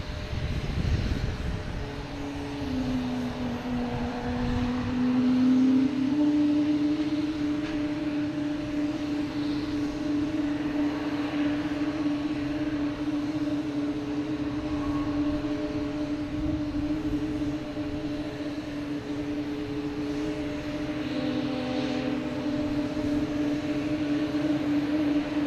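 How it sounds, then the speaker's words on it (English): A Southwest Boeing 737 MAX 8 comes in to land at Boston Logan, its engine whine and broad roar steady and moderately distant, holding for the whole stretch with no talk. "We have Southwest coming in,"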